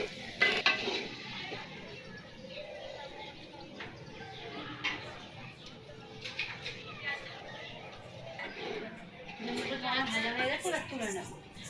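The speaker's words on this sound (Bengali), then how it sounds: "বেশি ভাজতে হবে না, অল্প ভাজলেই হবে।" Quail eggs with turmeric fry in a pan, with a soft sizzle and occasional clinks and scrapes of stirring under a voice that talks through most of the moment.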